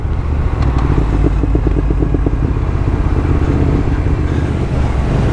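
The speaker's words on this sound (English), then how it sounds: "It's got the full Arrows twin exhaust with the carbon tips and a full decat, and God, it sounds beautiful" A Triumph Thruxton RS motorcycle with an Arrow twin exhaust, carbon tips and full decat idles with a deep, throaty exhaust burble, steady and close, with a few sharper pops early on.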